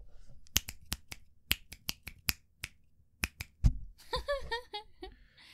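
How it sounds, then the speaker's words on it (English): A series of crisp finger snaps, some single and some in quick pairs, sharp and close, with a voice speaking briefly near the end. "I could do the snapping."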